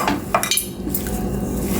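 Spoon clattering and scraping inside a bowl while mixing bhajiya batter made with sorghum puffs, a few quick close knocks over a brief, dense clatter.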